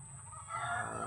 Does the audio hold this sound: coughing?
no